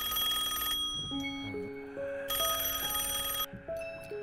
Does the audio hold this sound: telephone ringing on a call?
yes